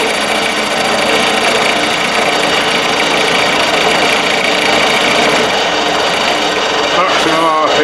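A Colchester Master 2500 metal lathe, a 400-kilo machine rated to 2,500 RPM, runs with a loud, steady mechanical whir and hum that stays constant from start to finish.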